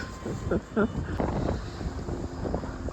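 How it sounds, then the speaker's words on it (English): Wind buffeting at a campsite, a rough rumbling gusty roar against the microphone with voices murmuring beneath it. "still waiting for the wind to die down"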